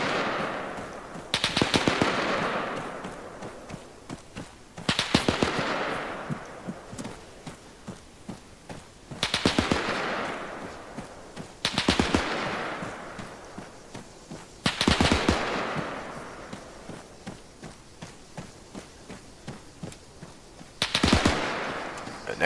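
M1919 machine gun firing in Arma 3, loud, close bursts that crack sharply and trail off in echoing reverb, repeated about six times across the stretch with quieter gaps between.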